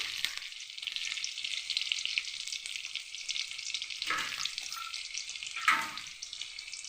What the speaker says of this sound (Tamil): ப்ரௌன் கலராக ஆகிறது வதக்கிட்டு